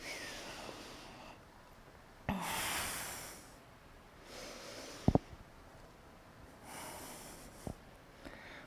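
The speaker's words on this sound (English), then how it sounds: "Take 5 slow breaths." Slow, deep breaths during a rest in a yoga session, about three long airy inhale-exhale swells spaced a couple of seconds apart, soft and close with no talking, punctuated by a few faint clicks and thumps.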